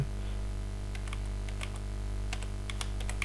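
Typing on a computer keyboard while filling in a table in Word 2007, light scattered key taps in short bursts over a steady low electrical hum.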